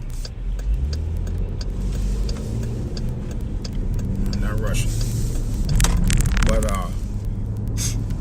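A car engine runs steadily nearby as a continuous low rumble that stays loud throughout, with people talking over it.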